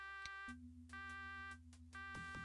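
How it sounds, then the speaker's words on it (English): An alarm sounds after a safe is opened in the Sega Genesis game Shadowrun: steady electronic tones pulse on and off in repeated beeps, clear and alone. "opening the safe has triggered an alarm"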